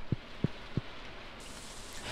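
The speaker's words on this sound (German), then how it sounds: "Es regnet." Steady rainfall in the video game Stardew Valley hisses as an even, close wash, with three soft low thumps near the start and no talk over it.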